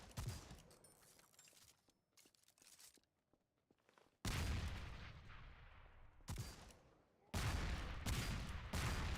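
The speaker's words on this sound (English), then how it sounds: "Why did that guy explode? What? Why are they exploding?" In the video game Destiny, loud explosive bursts crack in close, intermittent clusters, separated by quieter stretches of scattered shots and rumble.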